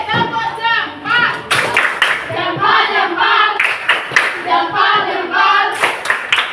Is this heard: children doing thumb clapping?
yes